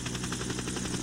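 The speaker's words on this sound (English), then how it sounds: "The helicopter is lifting off." Medical helicopter lifting off from an ATV accident scene, a steady close rotor chop and turbine roar with fast rhythmic blade pulses, loud and unbroken throughout.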